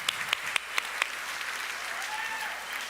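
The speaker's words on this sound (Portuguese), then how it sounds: "Vamos aplaudir essa galera da Família On aí" Audience applause at a church teaching event, a few sharp claps at the start followed by a steady wash of clapping that carries through to the end.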